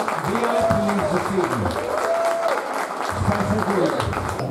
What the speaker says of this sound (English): how about a nice round of applause for all of our VIPs this